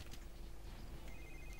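A telephone rings inside the James Bond Quantum of Solace video game, a short electronic tone that sounds faintly under a busy, dense game soundscape.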